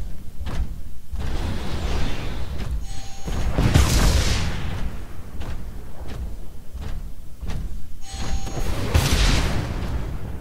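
Rockets fired at a Titan in the Titanfall tutorial, two heavy booming blasts with whooshing bursts several seconds apart over a constant loud rumble of mechanical game noise, with repeated thuds between them.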